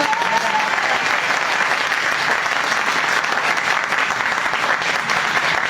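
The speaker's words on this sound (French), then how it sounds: "Est-ce que vous pouvez tous applaudir très très fort pour quelque chose comme ça?" A large audience at a spiritual-guides conference claps loudly on cue, forming a dense and steady wall of applause that holds at full strength from start to finish.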